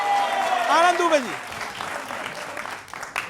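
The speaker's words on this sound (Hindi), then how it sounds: "तालियों के साथ स्वागत करिए भाई" An audience claps in a warm burst of applause welcoming a guest onstage, loud and continuous and then thinning out, while someone speaks over the start of it.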